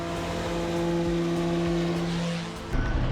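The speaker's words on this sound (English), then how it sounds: "We've never seen a jet wash like it." A pressure washer blasts a boat hull during a January boat lift in Turkey, producing a loud, steady motor drone with a hissing spray that runs continuously and then drops off near the end.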